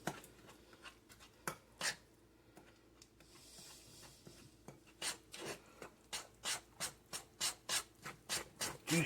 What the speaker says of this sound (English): You stir that up real good.